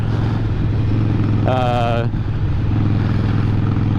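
A 2008 Harley-Davidson Nightster 1200 Sportster motorcycle engine drones steadily and loud throughout, a close low rumble during a ride, with a brief higher tonal whine rising over it midway.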